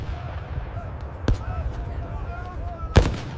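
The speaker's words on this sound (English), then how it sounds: "Covering fire maintains continuous pressure on the forward defensive line." Battlefield gunfire and artillery in a 1942 desert battle: two sharp heavy reports a couple of seconds apart, loud and close, over a rumbling low background.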